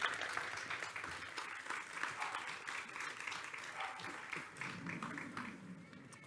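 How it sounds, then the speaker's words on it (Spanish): Audience applause at a public debate on political representation, steady continuous clapping from a seated crowd, moderately distant and sustained for several seconds. "Un aplaudiment per ells i per vosaltres per estar aquí també."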